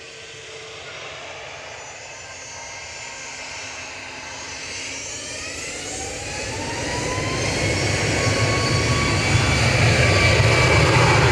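A TUI Boeing 737 MAX 8 jet at Manchester Airport roars steadily and grows louder as it draws nearer, with a rising engine whine and no voices.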